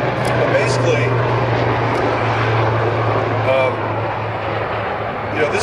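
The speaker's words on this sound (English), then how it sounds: "Figures the helicopters come right as I'm speaking, right?" A steady low engine drone from a helicopter overhead, loud and continuous throughout, with a voice talking over it outdoors.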